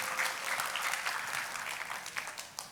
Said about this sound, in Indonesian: Kita kasih tepuk tangannya pula yang paling meriah buat Tuhan dia.